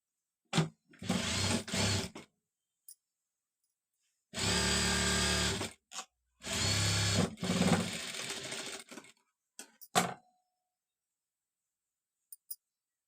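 A sewing machine stitches a side seam from the inside of a garment in several separate runs, some quick bursts and two longer steady whirring passes, with quiet gaps and small clicks between them and no talking.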